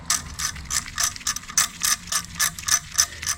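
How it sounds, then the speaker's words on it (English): Ratchet wrench rethreading an M6x1 bolt hole on a 2009–2014 Acura TSX catalytic converter job, quick rhythmic clicking bursts repeating steadily, close and fairly quiet with no talk. "The thread, the bolt wasn't going in, so I'm actually rethreading this."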